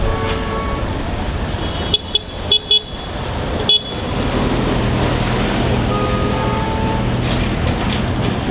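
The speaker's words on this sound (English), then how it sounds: "Traffic has died down for lunchtime." Heavy road traffic with trucks roars steadily past a roadside in the Dominican Republic, with several short loud horn blasts near the middle and engines rumbling continuously.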